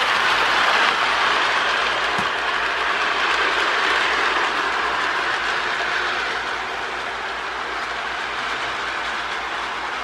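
A Marx E7AA toy electric train hums and rattles steadily along its track, a continuous whirring drone with faint clicking, fading slightly toward the end.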